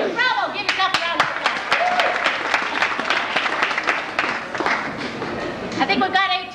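A room of new members at an induction gives a sustained round of clapping for several seconds, steady and fairly loud, with scattered voices and chatter mixed in and a brief swell near the end.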